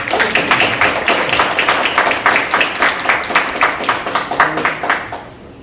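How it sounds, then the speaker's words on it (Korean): Audience members at a Korean venture forum clap rhythmically in unison as the forum chairman comes forward, a loud, evenly pulsing beat of hands that fades out near the end. "우리 권영철 회장님 나오실 때 이렇게 큰 박수 부탁드리겠습니다"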